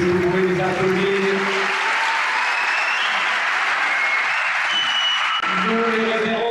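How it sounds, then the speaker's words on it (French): Audience applause at a sports awards gala rewarding a demonstration, a dense steady wash of clapping filling the hall, with a voice speaking over it at the start and end. "Vous pouvez les applaudir."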